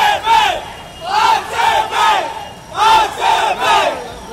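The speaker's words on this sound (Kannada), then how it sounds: "ಅಭಿಮಾನಿಗಳ ಹರ್ಷೋದ್ಗಾರ" A large crowd of RCB fans in Bengaluru celebrates an IPL 2024 win over CSK, chanting in loud, rhythmic bursts of three to four beats with short gaps between. The chants are close and energetic.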